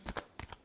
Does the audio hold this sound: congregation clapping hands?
no